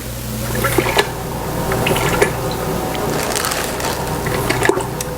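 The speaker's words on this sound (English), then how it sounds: "I always add water to my cup and try to get all of my KARO" Water is poured into a measuring cup coated with Karo syrup while candied figs are being made in a home kitchen, giving a steady, close trickling and splashing with small clinks over continuous low background noise.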